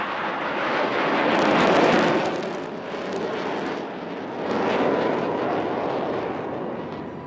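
Indian Air Force jet banking and turning during an air show over Chennai's Marina beach, a loud, continuous roaring engine rumble with broad wind-like noise that swells, dips and swells again as the aircraft manoeuvres.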